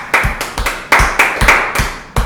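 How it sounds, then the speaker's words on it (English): A small group claps a short round of applause, with sharp, distinct hand claps close by in an uneven rhythm, about nine clear claps with no talking. "how about we all give him a round of applause?"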